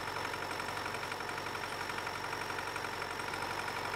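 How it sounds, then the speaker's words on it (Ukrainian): A combine harvester engine from the farming game Farming Simulator 19 runs at a steady idle, a continuous droning hum with a faint knocking texture and no change in level. "Комбайн."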